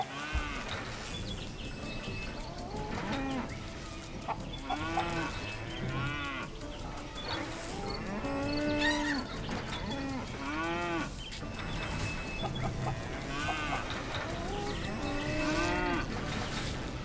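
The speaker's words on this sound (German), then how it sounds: "dann bringen wir mal zwei Kühe hier rüber" Cows in the Surviving the Aftermath video game moo repeatedly and loudly over a steady ambient background, several overlapping calls spread through the whole stretch.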